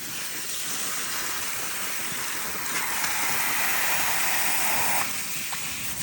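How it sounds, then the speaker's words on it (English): Shower water sprays steadily while a pet bird is washed, a broad hissing rush that swells louder in the middle and then eases back, with no talking. "All right, Apollo, you ready for shower?"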